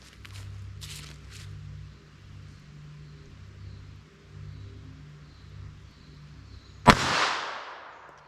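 A single sharp gunshot from a .32 ACP pistol firing Winchester FMJ rounds into ballistic gel with a barrier comes after a quiet stretch of low background hum, then rings out briefly with a decaying echo.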